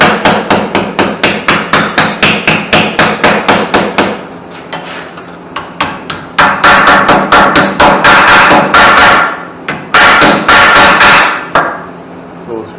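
Loud, steady hammer blows shape a trike body panel into a curve, metal ringing in quick rhythmic bursts with a few brief pauses between runs of strikes.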